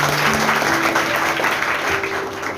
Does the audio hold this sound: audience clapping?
yes